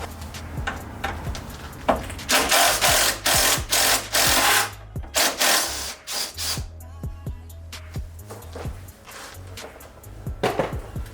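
A cordless impact gun rattles in repeated short bursts, loud and close, with brief pauses and clanking between bursts, during teardown of an Acura RSX for a K20 engine swap.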